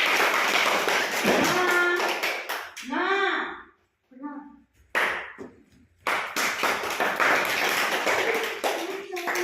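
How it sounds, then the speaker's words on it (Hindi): Children clap their hands together in sharp rhythmic bursts, loud and close, breaking off for a few seconds while voices speak and then starting again in a steady run. "ताली दियो ताली मारो ताली मारो ताली मारो।"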